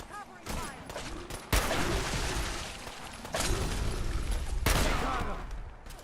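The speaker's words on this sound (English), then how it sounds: "I'll give them some covering fire!" Gunfire and explosive bursts in a Fallout 4 battle, a dense ongoing fusillade with loud booming shots around 1.5 and 4.7 seconds and shouting voices mixed through the chaos.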